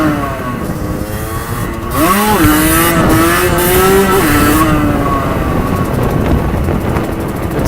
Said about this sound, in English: I don't know if you can hear me over the sound of this engine, it's pretty loud